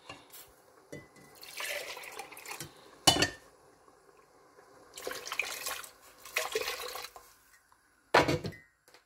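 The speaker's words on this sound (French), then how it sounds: "Je vais mettre de l'eau." Water pours in several short splashing bursts into a pot, separated by quiet pauses and a few faint clinks.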